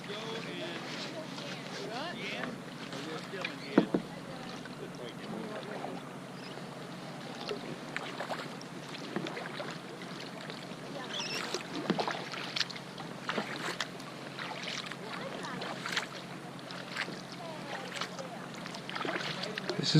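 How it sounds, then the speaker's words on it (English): Kayak paddling on water near Skagway, Alaska, with soft rhythmic paddle dips and splashes under steady wind noise and nearby talk. "This is probably like the most comfy kayaking I've ever done."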